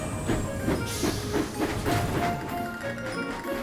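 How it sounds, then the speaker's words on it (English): Cartoon steam engines from Thomas & Friends puffing along rails, a steady rhythmic chuffing and clatter of wheels with hissing steam, moderately loud and continuous throughout. "Edward puffed into the steamworks. Charlie chuffed close behind."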